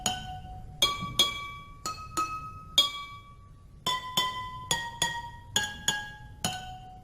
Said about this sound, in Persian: این دختر خانم اومده با این لیوان‌ها یک ساز بلز ساخته و با قاشق که روشون میزنه فرکانس‌های مختلف رو پخش میکنه